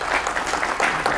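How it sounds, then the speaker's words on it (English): Audience applause for a speaker at a civic business event, a brief burst of many hands clapping close by, loud and continuous without voices. "give a big round of applause for Ray Young, City of Troutdale."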